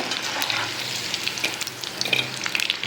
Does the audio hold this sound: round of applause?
no